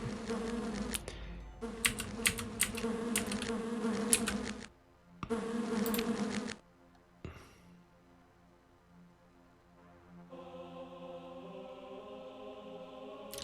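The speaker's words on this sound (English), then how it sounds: "Can hear the spiders buzzing as before." Buzzing insect-like drone from the spiders in the DOS game Lands of Lore, a maze level; the buzz comes in loud sustained bursts with sharp clicky transients and brief gaps, ending in a steady tonal hum.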